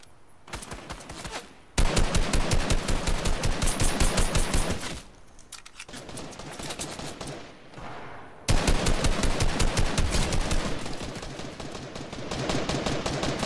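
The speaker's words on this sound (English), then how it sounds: "They're shooting. You were shooting." Rapid automatic gunfire in the Fortnite video game, long loud bursts of sharp cracking shots broken by brief pauses, close and dominant with no talk.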